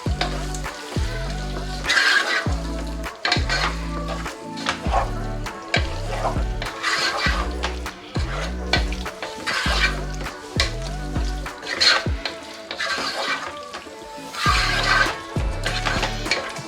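Boiled egg masala stirred gently in a frying pan, rhythmic scraping strokes repeating over a continuous sizzle, close and moderately loud, with no talking.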